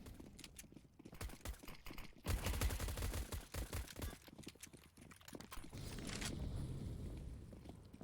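USP pistols firing in a competitive shooter match, a rapid series of sharp, close cracks in quick bursts, mixed with clattering footsteps and impacts, ending in a sustained rumble.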